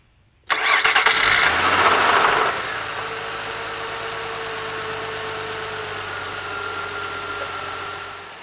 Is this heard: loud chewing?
no